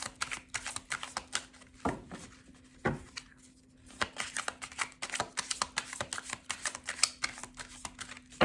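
Oracle and animal spirit cards being shuffled and drawn during a card reading, giving bursts of soft papery riffling and flicking with brief pauses and a faint steady hum underneath.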